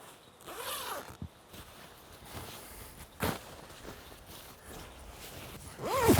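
The waterproof zipper on a rain jacket gives a few quick zipping rasps, with faint rustling of the fabric between them, close and fairly quiet.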